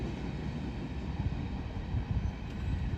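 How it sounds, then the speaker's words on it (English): A Norfolk Southern grain train rolls past at a distance, a steady, fairly quiet low rumble of rail cars with faint rhythmic clatter and no voices. "Moving on, Norfolk Southern grain train."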